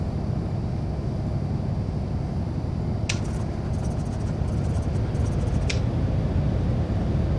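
The left engine of a Carenado Piper light aircraft in X-Plane 11 runs after a night start, giving a steady, fairly quiet engine roar with two brief clicks partway through.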